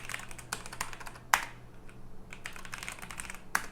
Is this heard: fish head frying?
no